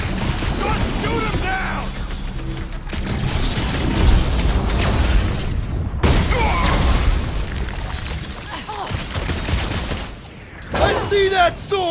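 Dense gunfire and booming blasts from a Guardians of the Galaxy combat scene on PS5, loud bursts of shots and impacts layered with music, while character voices shout over the action.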